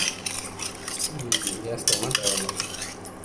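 Chicken curry is stirred in a pot on an electric stove, with clattering spoon-on-metal scrapes and knocks in quick bursts over a faint simmer, close up.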